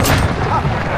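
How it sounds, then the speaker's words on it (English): A precision airstrike explosion in a military shooter game's Kill Confirmed match, a loud sustained boom with rumbling low end and crackling debris filling the whole second. "Precision airstrike ready."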